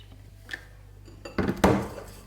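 Keto whipped dalgona coffee being mixed in a bowl: a soft clink, then a few close, sharp clatters and scrapes of a utensil against the dish.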